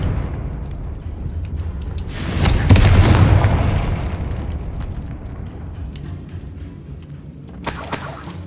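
Confringo spell in Hogwarts Legacy bursts into a loud, booming fiery explosion that swells in the middle and rumbles away slowly, followed by a sharper crack near the end.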